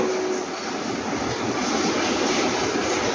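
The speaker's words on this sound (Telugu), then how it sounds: "చూసారా ట్రైన్ వస్తా అండి" Constant heavy rumble and roar of a train, loud and steady throughout, with a brief tonal hum at the start.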